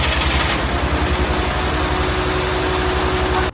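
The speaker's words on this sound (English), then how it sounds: "Only 2 of the cylinders worked at first." An Ecoboost engine swapped into a Nissan 240SX idles roughly on only two working cylinders, giving a loud, uneven low pulsing throb that runs steadily, then cuts off abruptly at the end.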